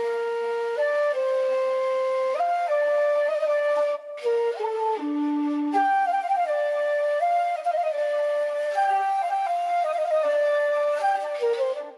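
A pitched-down melodic pattern from the Ratos Audio Ethnic Series Xiao Kontakt bank, played dry with reverb: a sustained, breathy flute-like line stepping through notes over twelve seconds, alone and steady in level.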